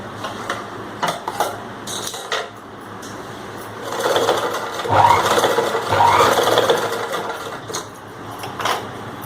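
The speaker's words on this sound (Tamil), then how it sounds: "இந்த ஸ்டிச்சிங் மேலேயே வச்சு அப்படியே தைக்க" A sewing machine stitches the front neck of a chudidar in short runs of fast mechanical whirring, close and clear, with brief pauses between bursts.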